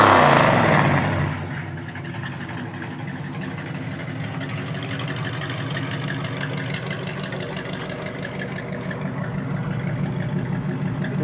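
A 1974 Dodge Challenger with cutout dual exhaust runs steadily, its deep, even engine note rumbling close and loud, with a louder burst at the start before settling into a constant idle-like drone.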